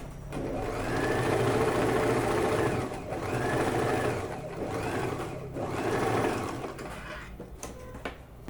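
A sewing machine stitches a straight hem along a pant leg: a loud, close motor whirr runs in three long bursts with short pauses between them, then trails off into light handling noise.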